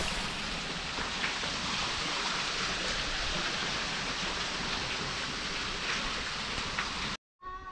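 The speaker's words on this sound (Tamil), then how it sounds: "நமக்கு பின்னாடி தெரிய ஃபால்ஸ் வந்து ஆர்டிஃபிஷியலாக க்ரியேட் பண்ணியிருக்காங்க" An artificial waterfall in a Karnataka park pours in a steady, dense rushing roar heard close up, continuous until it cuts off abruptly at the end.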